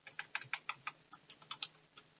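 Numbers are tapped out on a computer keyboard, about a dozen quick, light key clicks in two short bursts, close and clear in an otherwise quiet room.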